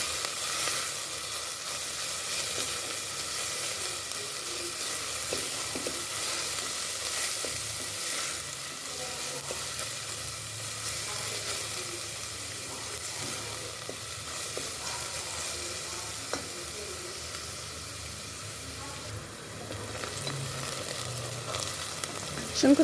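Onions fry in hot oil for a cabbage dish, giving a steady, even sizzle with occasional faint stirring scrapes throughout, close and continuous.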